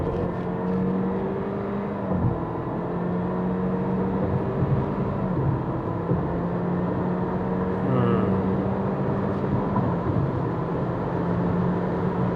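A new Honda Civic accelerating hard in a test run, a steady engine drone holding throughout with gear changes faintly audible, no speech.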